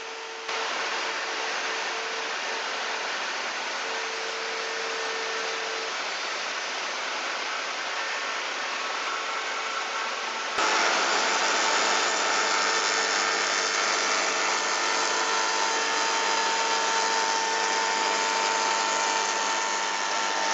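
A wood router mills a wooden piece guided by a template, a steady loud whine holding for the full stretch, its pitch and intensity stepping up partway through as the cut bites harder, with no talk over it.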